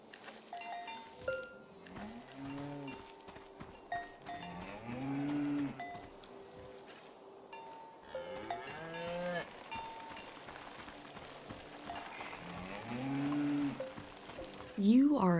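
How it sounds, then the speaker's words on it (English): Cows moo in the video game SEASON: A letter to the future, several drawn-out low calls spread across a valley scene with cowbells clanking, one moo very close at the end. "You are a cow and you are named Krasnahorkai."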